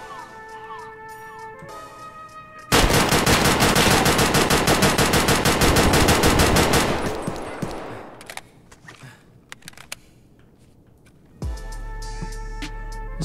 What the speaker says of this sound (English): You just unload a full clip into him.